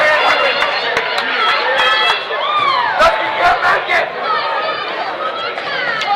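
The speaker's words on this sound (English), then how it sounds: "we got a raucous crowd here tonight" A loud, raucous crowd in the stands at a college men's basketball game, Fresno City against West Hills-Coalinga, with dense chatter, shouts and whistles running continuously and sharp cheers bursting through during free throws.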